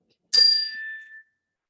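A single bright meditation chime is struck for a children's breathing exercise in a school setting, ringing clearly with a sharp onset and a clean tone that fades away within about a second, heard alone.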